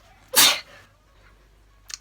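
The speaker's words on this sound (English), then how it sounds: "I'm gonna sneeze." A single sharp, close sneeze bursts out, followed by a faint short breathy sound.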